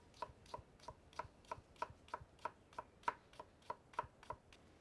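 Kohlrabi being sliced by knife on a cutting board for a remoulade-style side, a steady run of about fourteen crisp, close chops in even rhythm with no talk.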